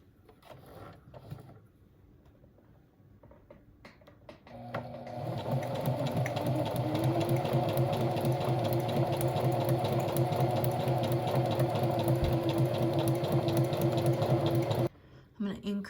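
A sewing machine stitching in a steady continuous whir with a fast regular rhythm, running for about ten seconds before stopping abruptly, with quiet handling noises before it starts.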